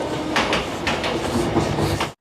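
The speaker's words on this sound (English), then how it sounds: "Frank, did you really think that we would be able to keep up with a bullet train?" A bullet train rushes past in a loud, close roar with rhythmic clatter from its cars, sustained throughout before cutting off abruptly at the end.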